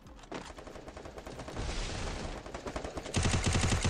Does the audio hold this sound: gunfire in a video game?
yes